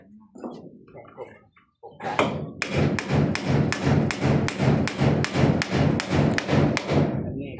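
A hammer strikes a nail in a steady run of about fifteen solid, evenly spaced blows, loud and close, after a brief murmur of voices.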